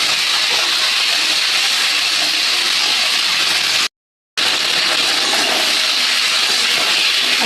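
Spices sizzle in hot oil as they are stirred in a pan, with ginger and cumin paste about to go in, a loud, steady hiss that cuts out briefly midway and then resumes, with no talking.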